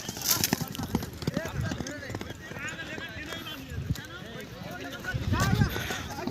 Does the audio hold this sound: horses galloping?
yes